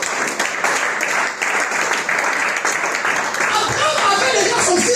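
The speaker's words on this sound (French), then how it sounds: "On va l'applaudir pour la gloire de Dieu." Church congregation applauding during a Sunday worship service, steady dense clapping that runs throughout, mixed with crowd voices and a speaking voice over the top.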